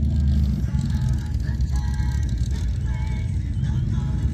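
A Holden EH car with a 260 engine burbles low and steady at close range during an outdoor car rally, with passing road traffic in the background.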